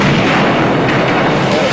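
A rocket fuel factory explosion reaches over a mile away as a dense, loud, broadband roar that fills the whole moment without letting up, rough and sustained rather than a single sharp crack.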